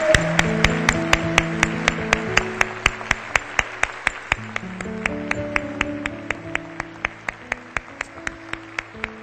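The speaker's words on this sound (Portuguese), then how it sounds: "Dê um aplauso ao Senhor." Church congregation clapping in steady rhythm, sharp even claps roughly two per second over sustained organ or keyboard chords, continuing throughout.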